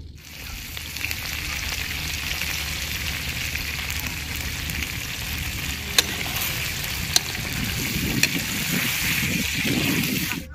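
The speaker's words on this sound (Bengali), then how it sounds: "তেলটা তো গরম হয়ে গেছে, এখন আমি আলুগুলা দিয়ে দেব।" Potato pieces with salt and turmeric frying in hot oil, a loud, continuous close-up sizzle with a few sharp clicks and occasional stirring, no voices.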